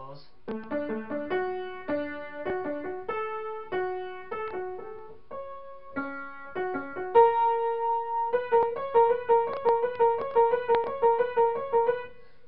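Solo piano plays the remainder of the melody of the Daniel Bryan WWE wrestling theme, as steady repeated chords and notes with a rhythmic left hand, growing denser and louder toward the end, close and clear with no talking.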